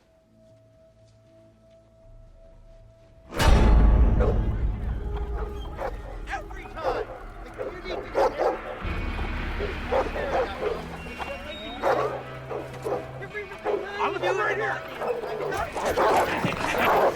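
A dog barks and yips repeatedly with high, sharp yelps mixed with whimpers. The barking is close and loud over a background of household sound, and people talk around the barking.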